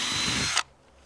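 A power drill whines at high speed while boring into metal on a skoolie deck build, a loud steady burst that cuts off sharply after about half a second, leaving quiet.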